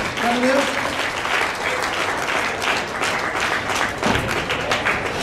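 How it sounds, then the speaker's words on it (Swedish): Audience applause breaks out at a heavy kettlebell long cycle competition, a steady wash of clapping from a crowd lasting several seconds, with a commentator talking over it. "Första applåden."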